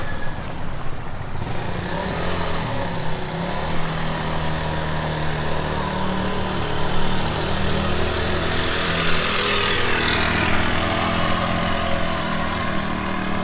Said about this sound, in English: A typical Hawaiian motorcycle or moped. They are noisy and they don't go too fast